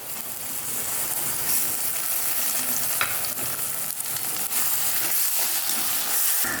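Ginger garlic paste and chopped tomato sizzle loudly and steadily in a hot pan, a constant hissing fry with occasional stirring clicks and no talk.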